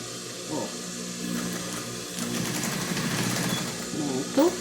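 A sewing machine runs in short bursts, stitching fabric near a lid, with a rapid mechanical whir that rises and falls between pauses, close up.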